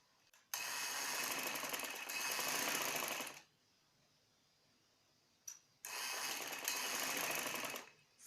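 A sewing machine stitches a frill onto the yoke of a baby frock, running in two loud steady bursts of about three seconds each with a quiet pause between.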